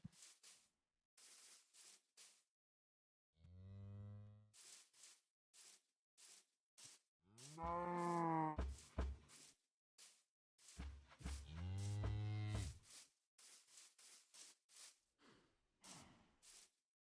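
Minecraft cows moo several times in drawn-out, low calls spread across the clip, interleaved with sharp clicking game sounds and quiet gaps.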